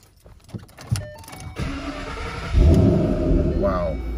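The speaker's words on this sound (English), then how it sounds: "So let's climb in and we'll fire this one up." A 2012 Ford Mustang Shelby GT500 SVT with the Track Package fires up from inside the cabin: a few clicks and a starter whir, then the engine catches with a loud, deep rumble that settles into a steady idle.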